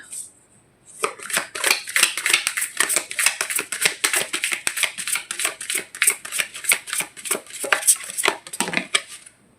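Tarot cards being shuffled and handled, producing a rapid series of close, crisp riffling and flicking snaps that continue steadily for several seconds with no talking.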